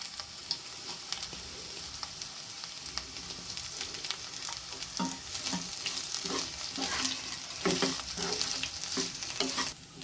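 Pirandai (veld grape stems) sautéing with a cup of grated coconut in a pan for chutney, with a dense continuous sizzle and frequent close stirring scrapes that grow busier toward the end.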